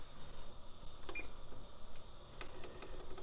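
A kitchen timer being set to 20 minutes for baking sourdough bread gives several short, sparse electronic beeps over a quiet room hiss, with no one speaking.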